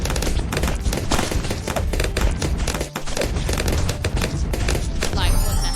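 Rapid semi-automatic gunfire from a video game wave-survival round on hard difficulty, a dense, loud stream of shots running continuously with a brief dip midway, with faint voice underneath.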